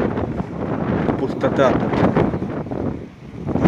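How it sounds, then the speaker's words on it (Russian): Strong wind buffets the microphone in loud, continuous gusts on a street in Bendery, with someone speaking briefly over the roar. "Сильный дует ветер."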